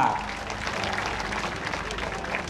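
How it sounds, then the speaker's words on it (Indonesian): A crowd at the Gebyar Posdaya event in Semarang Regency applauds for the PKK women's group, steady clapping with crowd murmur underneath and a low hum running through. "Tepuk tangan untuk PKK."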